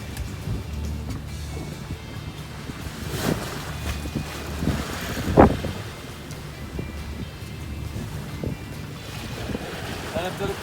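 Rough sea and gusting wind buffet a fishing boat in bad weather, a continuous rushing wash of waves and wind noise with occasional thumps and splashes, faint voices underneath.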